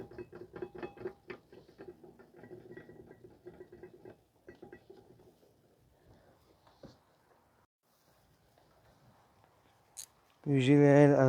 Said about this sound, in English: So I'm just gonna use a ratcheting wrench.